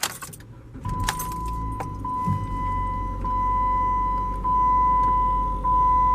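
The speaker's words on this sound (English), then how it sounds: "when you start the car up" A 2014 Jeep Patriot starts up with a brief jingle of keys, then settles into a steady low idle rumble under a thin, continuous dashboard chime tone.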